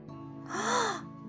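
A single drawn-out gasp from a mother fox character in a winter children's story, voiced by a narrator, swelling briefly in the middle and fading out.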